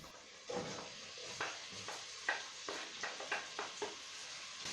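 Diced tomato cubes stirred into a pan of ginger garlic paste for a green banana stew, a soft sizzle under a series of light scraping stirs and spoon clinks, fairly quiet and close.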